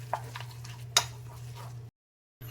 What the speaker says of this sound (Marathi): इनो फ्रूट सॉल्ट घातल्यानंतर चांगलं एकसारखे फिरवायचं आहे